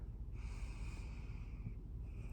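One long out-breath is pushed through the nose close to the microphone, a breathy, slightly snorting rush of air lasting about two seconds with a faint whistling tone, and no words.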